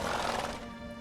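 Roach, the horse from The Witcher 3 game, gives one close, loud whinny that trails off after about half a second into a fainter tail.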